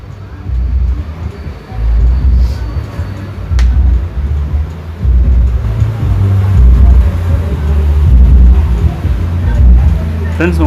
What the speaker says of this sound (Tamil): உங்களுக்கு சப்பு சவுண்டு கேட்குன்னு நினைக்கிறேன்